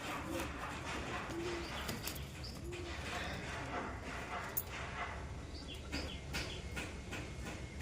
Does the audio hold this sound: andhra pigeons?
yes